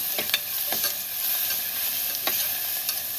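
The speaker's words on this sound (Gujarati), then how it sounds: "આપણું લસણ તેલમાં સારી રીતે સંતળાઈ ગયું છે" Grated garlic sautés in hot oil with a steady sizzle, punctuated by several quick scraping strokes of a spoon stirring the pan, and no voices.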